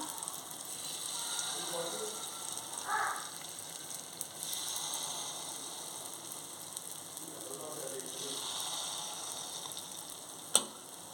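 Oats paniyaram batter sizzles steadily in a pan, a soft continuous frying hiss with faint spoon clinks and a sharp tick near the end, heard close and fairly quiet.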